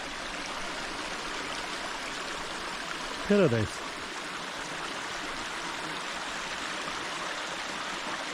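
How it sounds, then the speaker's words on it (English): A wilderness mountain stream runs in a remote valley beside a burning campfire, giving a steady, full rushing of water throughout. A voice briefly speaks over it midway. "water is running."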